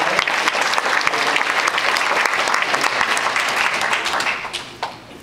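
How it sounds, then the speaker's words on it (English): A crowd at a 2009 high school class reunion gives the serving staff a warm round of applause, dense and steady, then tapering away in the final second. "we ought to give them a round of applause"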